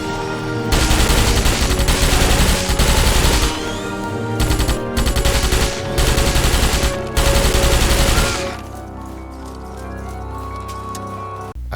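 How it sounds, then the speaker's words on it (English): A standard rifle in the Starship Troopers PC game fires in sustained, loud automatic bursts, several long strings of rapid shots separated by brief pauses before the firing stops and the sound fades to a low ambient hum. "The second weapon is a standard rifle that uses real ammo."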